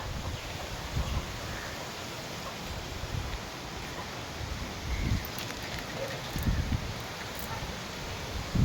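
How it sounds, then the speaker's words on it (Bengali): Gusty pre-rain wind rustling and buffeting outdoors, rising in soft bursts over a steady airy hiss, with no talking. "মোটামুটি হাওয়া ছেড়েছে বুঝতেই পারছেন"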